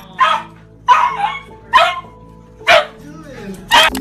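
A dog reunited with its owner barks in five sharp, loud bursts at roughly even intervals, with whimpering yips mixed in between.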